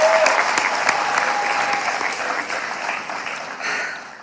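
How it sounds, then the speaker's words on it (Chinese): A studio audience at a Chinese roast comedy show bursts into loud, sustained applause that fills the whole stretch and tapers slightly toward the end. "希望大家把掌声送给他。"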